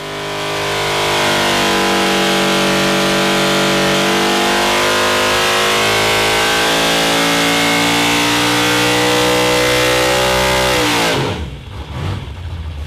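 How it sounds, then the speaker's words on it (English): A fuel-injected car engine howls loud and close under full load on a dyno, holding a rising roar for about ten seconds before abruptly dropping off to a rumbling idle. "So Frank, we just did another pull, 840 horsepower, pretty easy."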